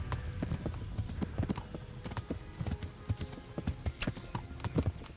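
Horse hooves galloping in the medieval video game Kingdom Come, a fast irregular run of clip-clop beats, fairly quiet and steady, with no talk over it.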